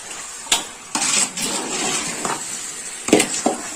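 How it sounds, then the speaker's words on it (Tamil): A spoon stirs a chicken biryani mixture in a pot, scraping the bottom in close, rough strokes with a few sharper metallic knocks. "நல்லா அடியில இருந்து நல்லா கலக்கி விடுங்க கீழே பிடிக்காம இருக்கணும்"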